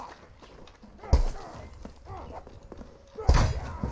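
Horse hooves clip-clop in the medieval combat game Mordhau, a few heavy thuds amid battle noise, with a voice speaking over them.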